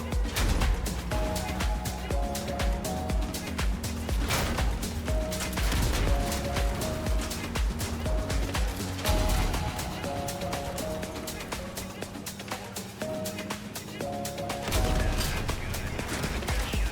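Cannon fire in the vehicle combat game Crossout, repeated heavy booming shots with crashing impacts in rapid succession against a constant mechanical rumble, while a player speaks over the action.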